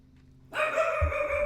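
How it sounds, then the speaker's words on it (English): Dogs bark at workers mowing a lawn, a sudden burst of barking that starts midway and stays loud and fairly close until the end, with no talk. "Oh, wait, dogs are barking at the guys mowing the lawn."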